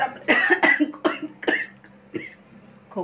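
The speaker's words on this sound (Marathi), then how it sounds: "खोकला येतो लवंगी मिरची भाजताना भरपूर खोकला येतो" Person coughing repeatedly while roasting lavangi chillies for Malvani masala in a home kitchen, several harsh close coughs and a throat clear with pauses between them.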